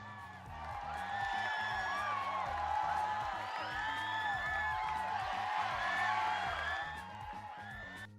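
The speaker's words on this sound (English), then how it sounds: "It's literally applause." Applause and cheering sound effect: a dense crowd roar with many overlapping whoops and shouts, swelling after a second, holding steady at moderate loudness, then easing off toward the end.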